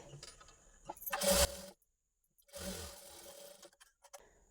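Sewing machine stitching a folded hook strip on a lehenga blouse, two short close bursts of rapid mechanical needle clatter separated by a brief silent pause.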